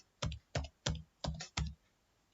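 Keys on a computer keyboard are struck while a Java loop is typed: five evenly spaced, close clicks, each with a soft thump, in quiet with no talking.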